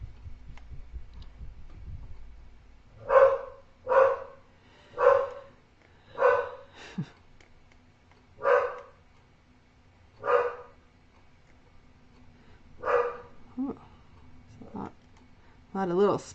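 A dog barks about ten times in a loose, uneven rhythm, each bark short and moderately close, with quiet room noise between them.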